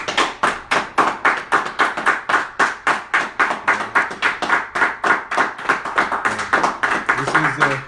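Steady, rapid clapping from a small group, sharp claps in an even rhythm throughout, with faint voices underneath.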